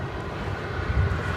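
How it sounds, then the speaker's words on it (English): An Embraer 175 jet airliner at DFW Airport gives off a steady, broadband engine roar that swells slightly near the end, heard at a moderate distance with no voices present. "It's an Embraer 175."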